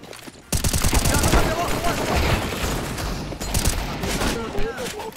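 Rapid automatic gunfire from a Counter-Strike: Global Offensive match crackles loudly and almost continuously after a short quiet start, with overlapping bursts and a voice talking faintly underneath.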